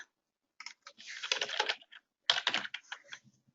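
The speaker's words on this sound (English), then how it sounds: "And I can type in the next one after that." Quiet bursts of typing on a computer keyboard, clusters of rapid key clicks separated by short pauses.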